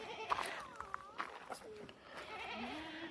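Goats bleat on a farm in several short, wavering calls scattered through the clip, while a person talks close by and a low outdoor noise bed runs underneath.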